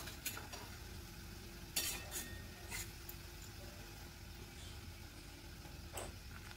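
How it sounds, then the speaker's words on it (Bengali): Chopped tomato frying in a pan for palak paneer, a steady low sizzle with a few sharp scrapes and clinks of a stirring spoon, close and alone with no voices. "টমেটোটাও হালকা করে ভেজে নিতে হবে।"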